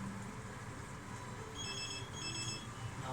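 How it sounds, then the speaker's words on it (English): A telephone rings in a home kitchen, a repeating electronic trill in short bursts over a steady low background hum, moderately near. "now the fucking phone's ringing."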